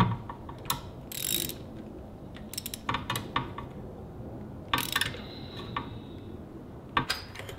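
A socket wrench ratchets while tightening a car spark plug, giving scattered bursts of sharp metallic clicks separated by pauses, close by with a steady background hum and no talking.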